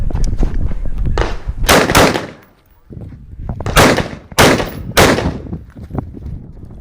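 Rifle shots at an outdoor tactical rifle match, fired at close targets through ports: several loud, sharp reports close by, spaced irregularly with short pauses, each trailing a brief echo.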